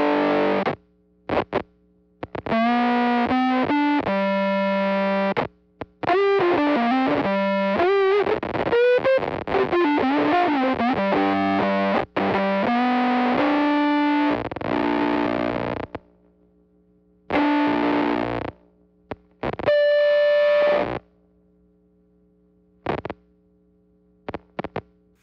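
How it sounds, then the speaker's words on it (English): Theremin played through a gated fuzz pedal, buzzy distorted gliding tones that swoop and wobble in pitch, cutting off abruptly into silence between phrases, with a steady low hum underneath. "Okay, so we've got a gated fuzz of some kind."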